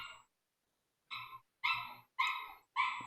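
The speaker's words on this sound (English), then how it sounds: "Can you guys hear the dogs?" Dogs bark somewhere at a distance, faint but clear: one bark, a pause, then three quick barks in a row.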